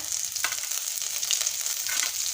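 Ginger and garlic paste fries in hot oil for a bottle gourd pickle, a close, bright sizzle with a few sharp stirring scrapes breaking through, no voices.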